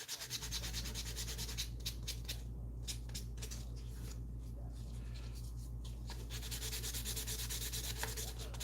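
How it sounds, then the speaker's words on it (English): Quiet, repeated scratchy strokes of sandpaper rubbing a small resin 3D printed miniature, close and soft, in short bursts with brief pauses under a faint steady hum. "I'm going to sand off some of this."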